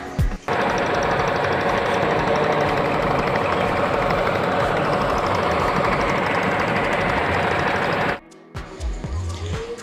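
A trawler engine chugs in a loud, steady, throbbing drone on the Nikli haor wetland in late afternoon. It cuts out abruptly near the end, leaving quieter background noise.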